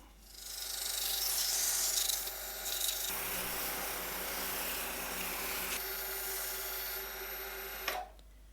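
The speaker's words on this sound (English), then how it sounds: "While I've been sanding" Continuous rasping friction of sanding a hard wood-burl and resin egg, steady strokes with a brief change in pitch midway, then stopping abruptly.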